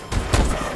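Sniper headshot in Call of Duty Advanced Warfare: a short, loud burst of gunfire with a sharp crack and a booming low thump, alone and without talk.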